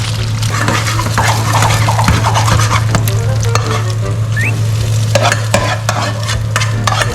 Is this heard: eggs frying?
yes